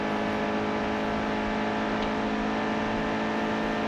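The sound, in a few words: racing truck engine and cars passing, NASCAR Heat 2 video game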